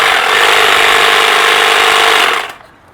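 An older, well-used Stihl HSA 86 battery hedge trimmer runs steadily with a loud, rattly buzz for about two and a half seconds, then cuts off and winds down into quiet.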